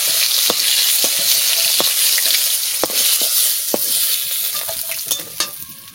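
Fish frying in a pan on the stove, a steady close hiss of oil broken by sharp clicks and pops as pieces are turned and stirred, with no voices.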